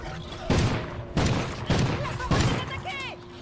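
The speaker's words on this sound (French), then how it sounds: "Ce petit fusil à pompe, il est nice" Pump-action shotgun fire in the video game Call of Duty, several loud booming blasts about every half second to second, each with a ringing tail, set over steady background game noise.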